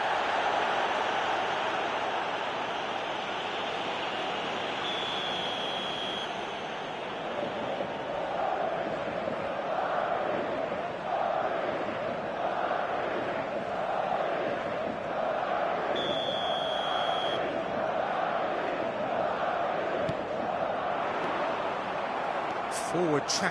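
Steady stadium crowd murmur and roar from an eFootball match, a continuous wash of distant fans swelling slightly mid-play, running beneath a commentator's voice throughout.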